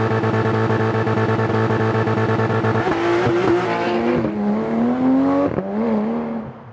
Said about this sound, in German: Okay, Launch Control, der Sound ist übel geil.